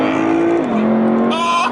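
Lexus LC500 V8 engine screaming at high revs, a loud, steady howl that shifts pitch once midway and climbs again near the end, close and sustained.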